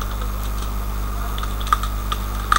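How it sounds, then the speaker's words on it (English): A few sparse, light keystroke clicks as card details are typed on a computer keyboard, heard close over a steady low background hum. "So I will type my details here."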